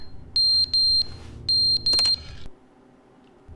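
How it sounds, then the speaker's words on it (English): Sharp high-pitched electronic smoke detector beeps in The Stanley Parable Ultra Deluxe, two pairs of long tones, loud and close, followed by a short burst of noise and then near silence. "it's coming from this smoke detector type of thing"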